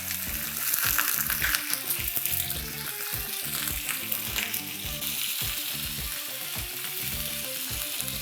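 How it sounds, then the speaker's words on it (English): Fish sizzles in a hot pan, a continuous crackling fry with soft scrapes and stirring clatter throughout, close and moderately loud, with no talking. "That was a little sizzle, huh?"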